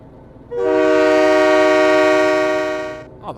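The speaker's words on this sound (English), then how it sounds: "the horn sounds sweet" A locomotive horn in the Train Mechanic Simulator game sounds one long, loud, steady chord blast of about two and a half seconds, starting suddenly and fading out at the end.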